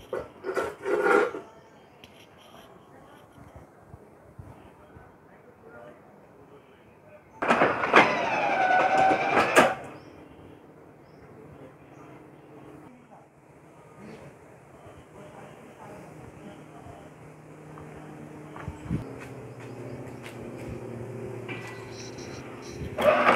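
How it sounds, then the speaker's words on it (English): Clamp type point machine with a thick web switch moving railway switch rails against the stock rail: a harsh metallic grinding burst near the start and a louder longer scrape midway, then quieter rumbling and clunks. "Now you are seeing the operation of the point between the switch rails and the stock rail."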